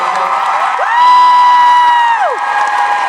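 Convention panel audience cheering and whooping, a loud sustained crowd roar with a shrill rising and falling whoop standing out, close and dense throughout.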